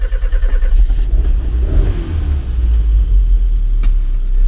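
A Mazda B1600 pickup that has not run since 2004 is started: rhythmic cranking pulses give way to a loud, deep engine rumble that swells as it revs, close up.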